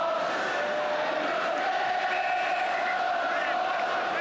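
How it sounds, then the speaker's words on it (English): Football stadium crowd at a Chelsea versus Manchester United match, a steady, loud roar of many voices with swelling chants and cheers that carries unbroken throughout. "At last, the game and the crowd comes alive."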